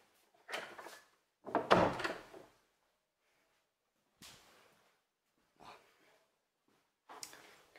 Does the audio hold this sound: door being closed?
yes